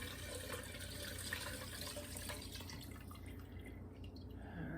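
Stock poured over a spoon into a pot of French onion soup, a steady close liquid trickle and splash running the whole time without a break, with no voices.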